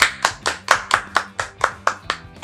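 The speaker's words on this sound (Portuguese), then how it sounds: "e uma salva de palmas pra essa galera" Steady rhythmic hand clapping, about ten sharp even claps in quick succession, close and clear with no voices, from an audience giving a round of applause.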